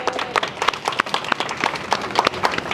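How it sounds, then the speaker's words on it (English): Crowd applause at a high school graduation ceremony honoring faculty and staff, a steady wash of many hands clapping with sharp individual claps standing out, moderately loud and continuous throughout. "So for the faculty and staff, round of applause for them, please."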